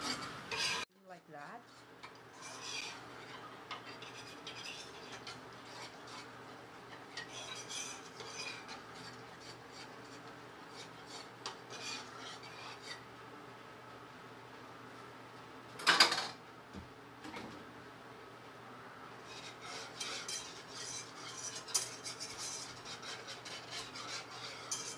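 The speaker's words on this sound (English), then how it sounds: "So here I have a half cup of water and 1 tablespoon of rice flour. Just gonna dissolve it." Rice flour being stirred into half a cup of water for kimchi paste, a steady soft scraping and swirling of utensil against a bowl that runs throughout, with one brief louder clatter midway and no talking.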